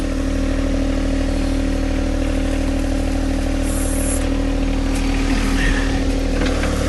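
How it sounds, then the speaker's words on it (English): A John Deere 260B backhoe attachment runs its hydraulics to raise the outriggers and arm, a steady loud engine drone with humming tonal layers throughout, rising slightly in strain near the end. "Raise the backhoe."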